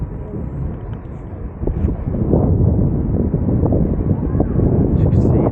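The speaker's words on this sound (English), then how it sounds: "taxiing out there to runway 23 left at Manchester International UK is the Singapore Airlines Airbus A350" Singapore Airlines Airbus A350 taxiing toward runway 23 left at Manchester Airport, a steady low jet rumble heard from a distance, blended with wind buffeting on the microphone and growing slightly louder after the first couple of seconds.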